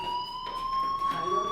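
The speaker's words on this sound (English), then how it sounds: "Hey, do you hear that fire alarm?" Fire alarm ringing in the video game Life is Strange, a steady high electronic tone with bright harmonics that holds unbroken throughout, loud and close, with faint background sounds beneath.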